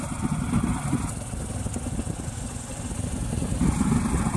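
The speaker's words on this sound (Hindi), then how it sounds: "देखिए मैं अपने बाइक से जा रहा हूँ" Motorcycle riding along a long airstrip track of roughly 2.5 km at Chianki airfield, Medininagar, Palamu, its engine a steady, moderately loud drone with wind rumble, continuous and alone throughout.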